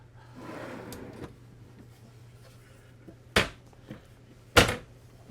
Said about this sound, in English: Little pull out drawer here, maybe for knives or spices or smaller items.